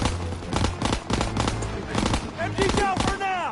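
Rapid machine gun bursts from an MG in the World War II shooter game Call of Duty WW2, loud and repeated in stuttering volleys, mixed with other battlefield gunfire, shouted in-game voices and whistling projectiles.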